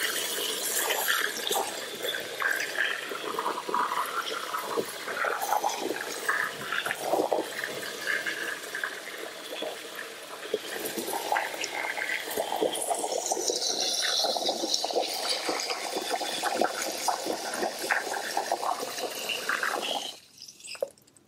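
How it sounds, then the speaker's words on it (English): Water pours and gushes steadily into a pot of dried beans, a continuous splashing, bubbling rush up close that lasts about twenty seconds before cutting off abruptly, with no voices. "when you have dried beans and you put water in there"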